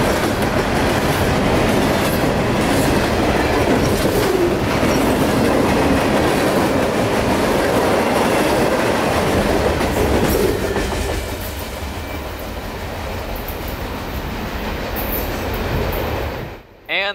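A CSX freight train with DPU locomotives rolls past, a loud steady rumble of railcars with rhythmic clickety-clack and occasional wheel squeal, easing off near the end.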